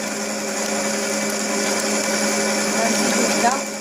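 An electric mixer whirs steadily as it beats shortbread dough with eggs, a continuous high-pitched motor whine running unbroken at close range, with someone speaking over it.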